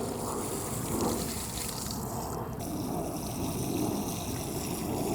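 Running water rinses debris off a rescued Cycas revoluta sago palm, a steady close splashing and trickling stream that continues without pause.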